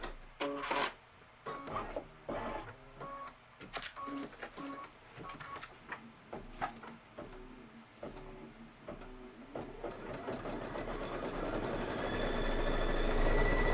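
A sewing machine stitching leaves onto a Kimberbell Cup of Cheer wreath project runs in short bursts of rapid mechanical clatter, starting and stopping repeatedly before settling into a steadier, louder run near the end.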